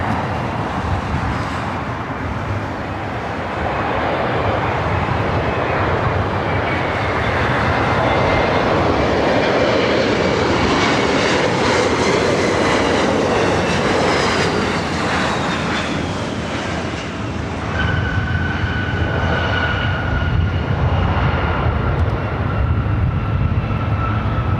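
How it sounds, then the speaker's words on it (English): An Embraer E-Jet airliner arrives at LAX airport with a loud, sustained jet roar that swells toward the middle and then eases off. Whining engine tones slide downward as it passes, and no talking is heard. "Next arrival, another E-Jet coming"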